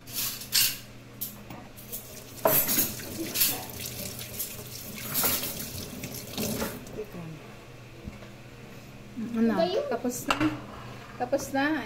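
Dishes washed under a running tap in a home kitchen, water splashing and plates and cutlery clattering, with people talking throughout.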